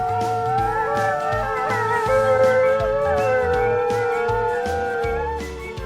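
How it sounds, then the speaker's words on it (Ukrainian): A wolf howls in long, sustained, wavering tones layered over one another, loud and clear, with a pulsing rhythmic backing beneath, and no talking. "Це вовк виє."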